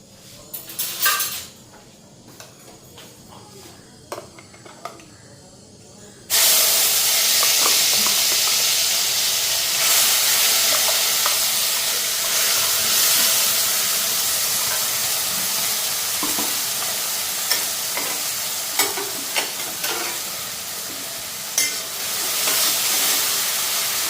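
Black cumin sizzles in a hot wok, a sudden loud burst of frying hiss that starts partway through and then holds steady, with occasional clinks and stirring scrapes over a quiet start.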